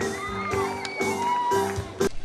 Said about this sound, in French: est-ce qu'on peut pousser des cris de joie pour le Père Noël?